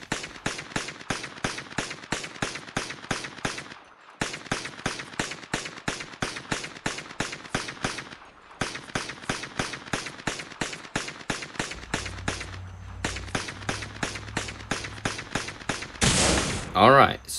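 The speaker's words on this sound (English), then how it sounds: "now for the shooting test. As you know, we'll be using the pistol and other weapons." Rapid bursts of pistol fire and other weapons ring out in the MadOut2 video game, sharp shots in quick strings broken by brief pauses, loud and close, with a whoosh near the end.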